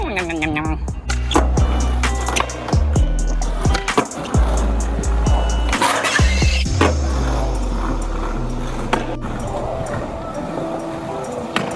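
Skateboard wheels roll and clack on a Barcelona street during a nose manual on a pad, with hard deck pops and landings and continuous rolling grind. Voices are faint in the background.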